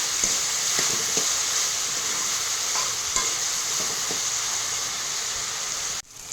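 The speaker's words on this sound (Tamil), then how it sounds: "நல்லா வதங்கிச்சு மொத்தமாக ஒன்றா வதங்கிச்சு பாருங்கள் தக்காளி வெங்காயம் பூண்டு எல்லாம்" Tomato, onion and garlic sauté in a hot pan for lentil ball gravy, a loud steady sizzle with occasional stirring scrapes that cuts off abruptly near the end.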